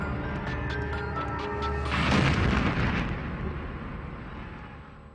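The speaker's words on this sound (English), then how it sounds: "until the explosion" An explosion at the Pentagon during the 9/11 attack bursts out as a heavy rumbling boom after a low background drone, then slowly fades.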